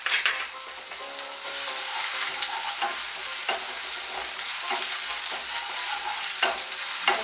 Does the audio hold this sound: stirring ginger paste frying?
yes